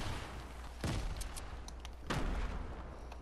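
Gunfire in Fortnite, with two distinct loud shots about a second apart, each a sharp crack with a brief rumbling tail over low background noise.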